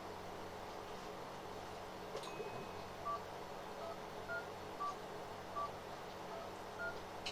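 Telephone touch-tone dialing: a series of short, evenly spaced DTMF beeps pressed one after another, fairly faint over a steady low background hum, with no talk over them.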